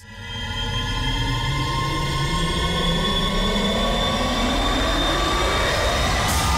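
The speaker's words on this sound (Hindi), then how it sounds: "ये स्लो धीरे धीरे धीरे स्टार्ट होते हैं एंड देन ग्रेजुअली बिल्ड होते हैं एंड देन एब्रप्टली बंद हो जाते हैं" Cinematic riser sound effect: a dense, sustained swell of layered tones that climbs steadily in pitch and intensity over several seconds, loud and alone, before a sharp bright burst at the very end.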